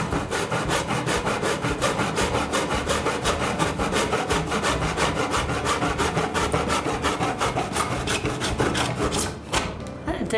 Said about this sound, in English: So I'm going to use the miter saw and get to cutting.